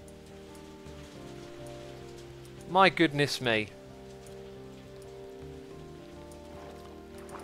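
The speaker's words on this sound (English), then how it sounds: "It's a hailstorm" Hail pelts a window during a storm, a steady dense patter over a low indoor hum, with a brief exclaiming voice breaking in near the middle.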